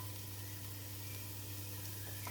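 Two medium chopped onions sizzle in a pan as the base of a nettle and dandelion soup, a faint, steady hiss with no one talking.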